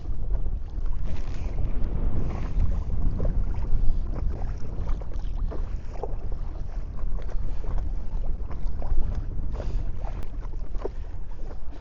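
Kayak hull slapping and splashing through choppy waves on Atlin Lake, British Columbia, steady water noise with wind buffeting the microphone throughout.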